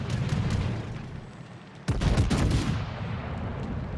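Anti-aircraft guns fire aboard a warship in World of Warships, a steady rattle of rapid gunfire with a sharp, loud burst of heavy shots near the middle, then continuing bursts.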